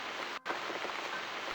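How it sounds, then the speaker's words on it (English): Steady rain in the video game The Cat Lady, a continuous hiss of falling drops that briefly cuts out for a moment before resuming, with no voices. "Looks like we've got the rain back."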